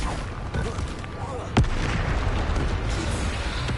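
A Bombarda spell explosion in Hogwarts Legacy: one sharp blast cracks out mid-clip over a busy, rumbling game soundscape, with a voice heard in the background.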